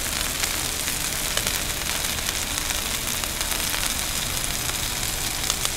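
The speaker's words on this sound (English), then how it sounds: "Can you hear that sizzle? That's exactly what we wanna hear." Steady, crackling sizzle of filet mignon searing on a hot Blackstone griddle, loud and close, with no voices.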